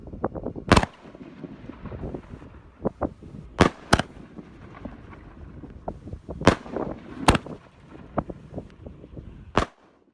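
Chrysanthemum fireworks burst in a series of sharp, loud bangs spaced irregularly over several seconds, with softer crackling and popping filling the gaps between the main explosions.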